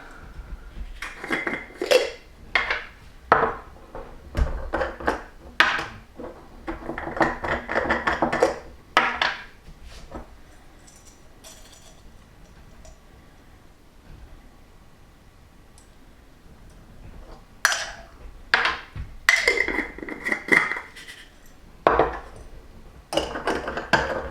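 Homemade natural ink being stirred in jars, producing clusters of light clinking and tapping against glass in two busy spells separated by a quieter stretch.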